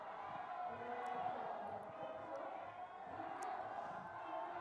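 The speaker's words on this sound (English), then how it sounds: "the crowd giving plenty of enthusiastic support too for Yang" A crowd cheers and calls out steadily for a sitting cross-country skier named Yang coming into the finish area during a Para 15km race, a continuous, moderately distant roar of voices with a few sharp whistles and shouts.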